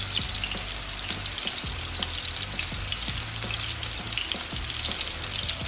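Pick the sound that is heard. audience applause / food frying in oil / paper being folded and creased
food frying in oil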